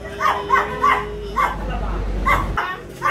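A small dog yips and barks several times in quick bursts, with a person talking over and between the barks.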